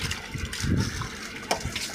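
Water poured out to rinse and clean a surface, a faint rushing gush with a splashy swell midway and a brief sharper splash near the end.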